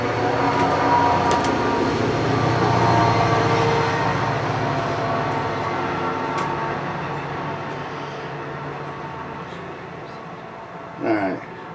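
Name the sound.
train going by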